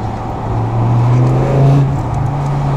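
A car with a modified stainless-steel exhaust revs up close by, its deep, loud engine drone rising and swelling before settling into a steady rumble, with no voices over it.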